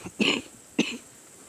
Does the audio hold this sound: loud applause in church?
no